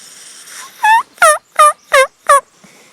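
A feeding wild turkey hen calls up close in spring with five loud, evenly spaced clucking yelps, clear against a quiet background.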